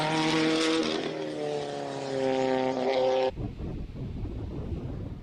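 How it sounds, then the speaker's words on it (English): A turbocharged rear-wheel-drive Mark II Escort race car launches at a hill climb in Cape Town. The engine note climbs loudly for about three seconds, then cuts off abruptly into a rough, distant rumble. "the Mark II Escort that you just seen launch off the start line"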